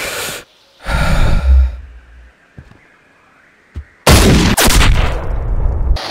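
A hunting rifle fires in the video game Cabela's Big Game Hunter, with sharp, loud blasts and heavy breathing and gasps between shots. Noise bursts come in separate bouts, and the last shot is followed by ringing reverberation.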